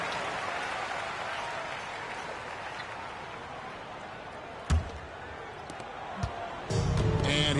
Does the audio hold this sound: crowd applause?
yes